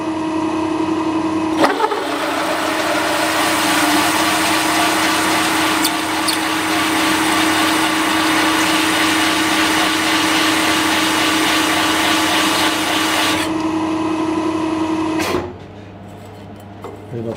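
Powered machine on slow gear cutting cheek plates for a Green Mantle clock, a loud continuous whirring grind running steadily for most of the span before cutting off abruptly near the end.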